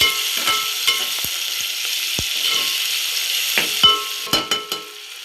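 Onions sautéing in a pan for a katla fish curry, a continuous low sizzle with scattered clicks and a few louder knocks of a utensil against the pan near the end.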